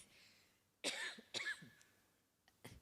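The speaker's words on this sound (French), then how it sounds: "Ça me fait tousser." A person coughs in two sharp bursts close together, then a quieter third cough after a pause, in an otherwise quiet room during a panel discussion.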